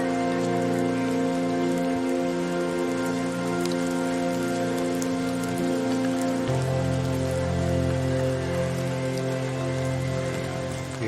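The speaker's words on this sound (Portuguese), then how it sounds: "Enquanto gravávamos, a chuva fina caía e refrescava o ambiente." Light rain falls outdoors in India, a soft, steady patter of drops that lasts the whole stretch, over a constant humming tonal background and with no one speaking.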